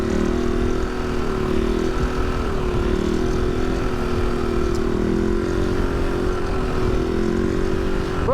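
A motorcycle engine drones steadily during a ride on a bike fitted with dirt tires while the rear brake is in use. The engine hum holds close and constant with slight pitch wavering and no talk over it.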